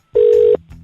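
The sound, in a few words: telephone dial tone when placing a call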